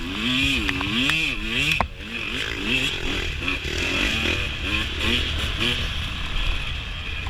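A dirt bike engine revs and bogs as it climbs a hill during a Portland Trail Riders hare scramble, rising and falling pitch with strained bursts, loud and close over a steady buzzing drone.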